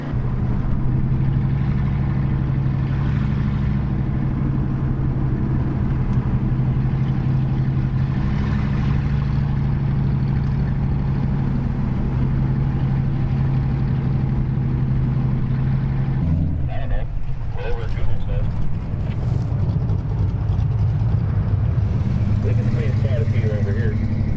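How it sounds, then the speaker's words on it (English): A 1955 Ford engine with straight pipes idles with a steady deep rumble, then shifts and revs briefly, loud and close throughout. "Sounds pretty good, straight pipes."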